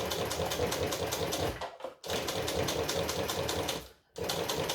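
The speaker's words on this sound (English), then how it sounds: "because of the type of foot I have on this machine, I actually prefer to top stitch with this way." Close, rapid clattering of a sewing machine fitted with a walking foot as it top stitches a fabric pouch, running in steady bursts with two brief pauses, no voices.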